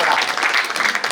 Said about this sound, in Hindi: एक बार अच्छे से ताली बजाइए अगर गीत अच्छा लगा हो तो।